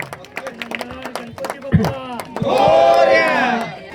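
A crowd at a Ganesh mandal festival event in Islampur, starting with a loud amplified voice over scattered claps, then swelling into sustained cheering and shouting with clapping mixed in toward the end.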